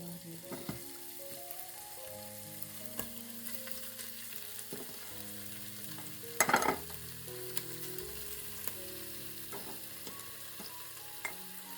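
Chicken pieces frying in hot oil in a multicooker bowl, a faint steady sizzle with a sudden louder crackling burst as meat goes in, quiet music underneath and no talk.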